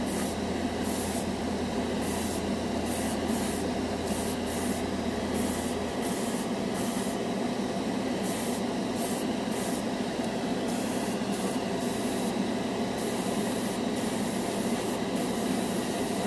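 A $14 dual action airbrush sprays yellow paint in a continuous, close hiss, with brief pulses where the trigger flutters, over a low steady compressor drone.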